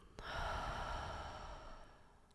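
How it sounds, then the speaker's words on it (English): A single breath exhaled slowly during a breathing exercise, starting with a sharp onset and then fading as a soft airy rush over about two seconds, faint and close. "Exhale."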